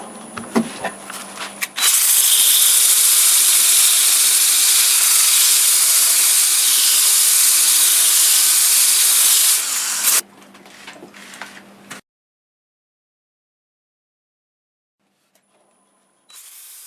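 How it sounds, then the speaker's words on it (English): A power sander runs on a fine 1500-grit pad, a loud, steady broadband whine lasting about eight seconds, then stops, with quieter handling noise after and a silent stretch at the end. "let's go ahead and do a little bit of sanding."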